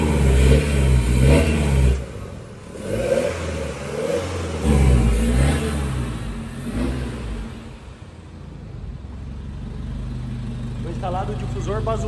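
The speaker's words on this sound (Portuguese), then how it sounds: "Vamos ver como é que ficou o ronco ali fora." A 2019 Chevrolet S10 pickup with a newly fitted aftermarket exhaust revs outside a shop. Its deep engine note rises and falls in several bursts before settling toward idle, with people talking over it throughout.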